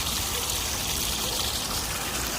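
Water full of sludge pours out of a heating radiator collector, a continuous dense splashing and gushing stream heard close and loud, without pause or voices.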